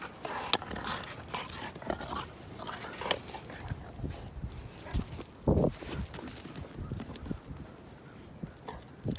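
A high-energy dog plays outside on a cold, windy farm, scuffling about with jingling and a brief whimper over constant wind noise, and no one talks.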